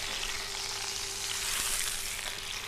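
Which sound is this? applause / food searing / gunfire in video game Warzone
food searing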